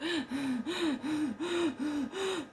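A pug dog breathing heavily with a wheezy, snorting rasp, seven rhythmic strained breaths in a steady cycle close up, alone with no talking.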